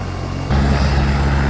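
Two helicopters running side by side on a field, one engine nearing full throttle and the other just fired up, a loud, close, roaring engine drone that jumps sharply in level partway through and then holds steady.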